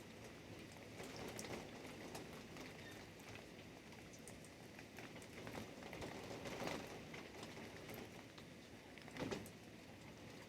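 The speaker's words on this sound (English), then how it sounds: "nighttime rain, thunderstorm, sleepy time loop." Steady nighttime rain in a thunderstorm, a dense, even hiss of drops on surfaces with faint rumbling underneath and a slightly louder patch near the end, no voices.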